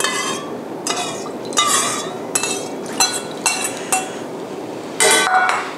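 Gyudon sauce mixture going into a pan over the heat, heard as a run of loud close clinks and knocks of utensils against cookware in irregular bursts, no talk.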